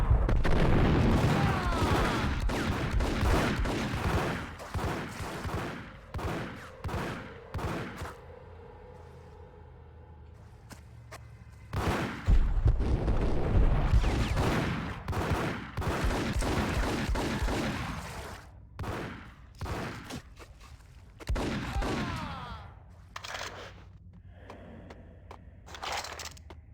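Repeated gunshots and bursts of gunfire from the video game Max Payne, loud and close, fired in rapid clusters with brief pauses between volleys, plus crunching impacts and a midway lull before the shooting resumes.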